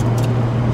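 A 1985 Honda Accord engine drones low and loud right after the headlights come on, sounding strained and close to stalling in a brief steady rumble.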